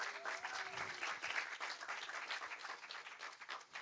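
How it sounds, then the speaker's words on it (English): Applause from the audience at a televised New India Debates event, a dense, steady wash of many hands clapping that fades slightly toward the end, with no talking over it. "A huge round of applause for Team A and Team B for"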